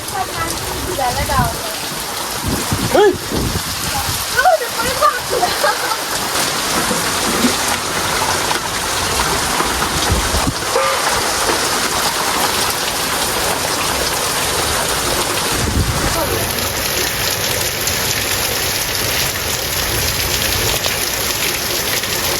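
Heavy rain pours down in a dense, steady hiss on nearby surfaces, with a few voices heard briefly beneath the downpour.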